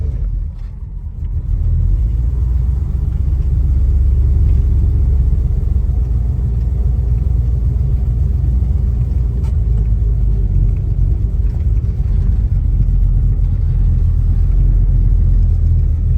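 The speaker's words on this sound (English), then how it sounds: "we're going to take this 1972 Chevrolet Nova for a test drive and see how it does." A 1972 Chevrolet Nova on a test drive in Kentucky, a deep, steady engine rumble with road noise heard continuously from inside the car after a brief quieter start.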